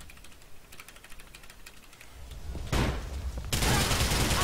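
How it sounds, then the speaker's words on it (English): A GTA IV shootout breaks out after a grenade is fired into a house: rapid bursts of gunfire crackle through the scene, building in density and loudness until near-continuous heavy firing dominates the final seconds. "And the ensuing shootout from shooting this grenade into their house."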